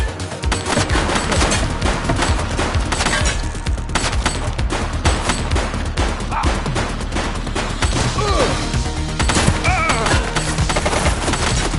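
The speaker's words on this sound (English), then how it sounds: "Shots fired!" Gunfire in the police game The Precinct: loud, rapid bursts of automatic and single shots crowding together in a sustained barrage, with sharp impacts and crashes.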